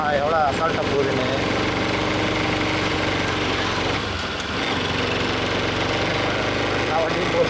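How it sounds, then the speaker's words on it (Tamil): An auto rickshaw engine drones steadily as it drives by on a road near a hill temple, a continuous close, buzzing motor rattle that holds throughout. "ஆட்டோ பாருப்பா எவ்வளோ அசால்ட்டாக போகுதுன்னு."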